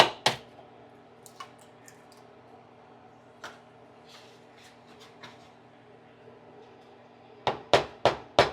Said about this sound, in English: now it's time to cook the eggs. So we're going to crack one.